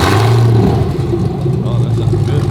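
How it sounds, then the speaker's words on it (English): A 2016-2022 Chevrolet Camaro SS V8 on its stock exhaust fires up with a loud, deep rumble close by, then settles into a steady, throbbing idle. "this is the stock exhaust. We ain't got nothing on there, but I want to give it a startup"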